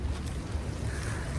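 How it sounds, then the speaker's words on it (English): Strong wind outdoors in Scotland buffets the microphone, a constant low roaring rumble with no pause. "So windy, guys."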